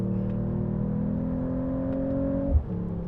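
A 2024 Mercedes-AMG E53 Hybrid engine drones and pulls under acceleration, a steady close harmonic hum that holds evenly, then a brief thump and a shift to a lower note near the end, with no talking.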